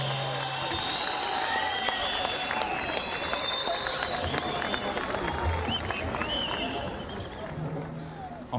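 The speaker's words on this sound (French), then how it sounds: "On les applaudit, eux, s'il vous plaît, eux!" An outdoor audience at a Fête de la Musique event in Païta applauds a school class with dense, sustained clapping and some cheers. The applause stays loud and steady throughout while people talk over it.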